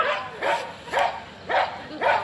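Young dogs about 50 cm tall, two sisters, bark in a steady rhythm of five evenly spaced sharp yaps, close and clear, with a slightly whiny edge.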